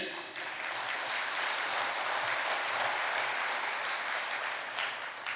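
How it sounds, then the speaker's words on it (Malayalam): A church congregation claps together, a dense and even wash of applause that holds steady for several seconds at moderate volume, heard from a little distance. "ഒന്ന് കൈയടിച്ച്"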